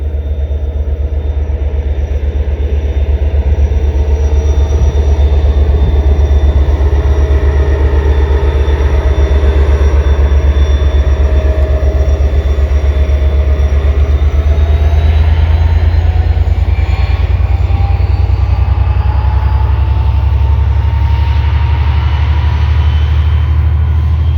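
A pair of Class 57 diesel locomotives pass by, a loud steady low engine rumble with rising and falling tones throughout, continuous and close with no voices.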